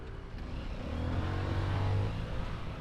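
A car engine on the road revs up in a rising, droning surge that swells and then eases off over a couple of seconds, close by with no talk.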